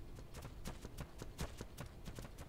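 In the game Dark and Light, a horse's hooves clip-clop in a quick, even trotting rhythm, each hoof strike crisp and close, with a soft background underneath.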